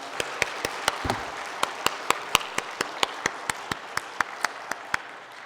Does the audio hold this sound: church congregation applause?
yes